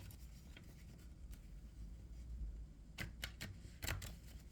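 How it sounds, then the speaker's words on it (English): A small deck of plot cards shuffled by hand, heard as a few quiet riffling bursts and taps, faint and close with no talking. "This deck's like really hard to shuffle because there's like barely any cards in it."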